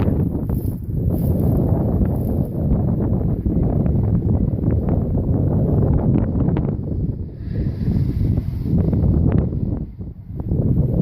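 Strong storm wind of about 50 mph gusting hard against the microphone, a loud, continuous roaring buffet with surges and brief lulls.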